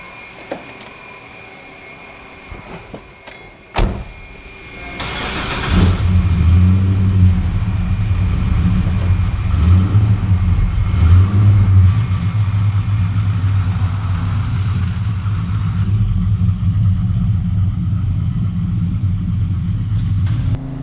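A 1971 Chevrolet El Camino finished by Roadster Shop starts up with a brief crank, then its engine rumbles loudly and steadily as it revs and drives off, close and continuous, with no talking.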